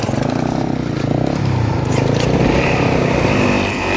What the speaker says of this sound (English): The bike's coming down.